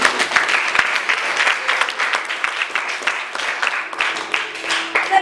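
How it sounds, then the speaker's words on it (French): A church congregation claps and applauds together. The applause is dense and continuous and stays at a fairly even, full level from start to finish. "On acclame le Seigneur."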